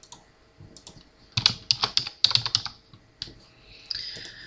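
Typing words on a computer keyboard to make cake toppers with fonts and a Silhouette cutter, heard as close, quick clusters of key clicks in irregular bursts with short pauses; no talk.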